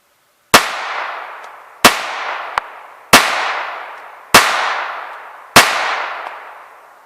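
A Walther P22 pistol fires CCI Mini Mag .22 rounds outdoors: five sharp, loud cracks spaced over a second apart, each trailing off in a short echo, with a faint metallic click between the second and third.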